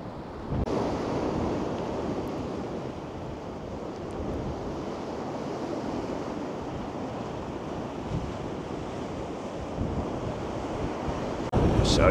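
Choppy sea at Blackpool in freezing weather: a continuous roaring wash of waves mixed with heavy wind buffeting the microphone, steady and dense throughout with no voices.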